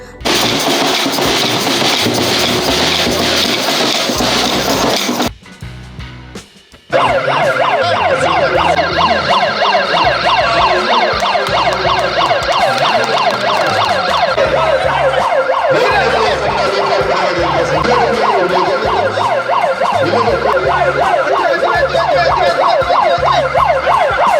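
A boat ambulance's loud wailing emergency siren sounds continuously on a riverbank, cycling up and down, with a brief dip near the start before resuming at full strength.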